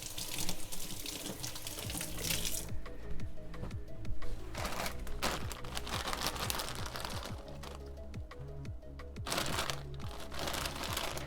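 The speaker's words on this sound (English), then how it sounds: "Let me rinse my hands real quick." Hands are rinsed under a running kitchen tap, water splashing steadily with shifting, rustling surges as the hands move through the stream, fairly quiet and without talk.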